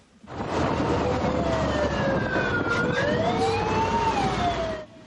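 A fire truck siren wails loudly on the way to a vehicle fire, its pitch sweeping up and down continuously over heavy engine and road rumble.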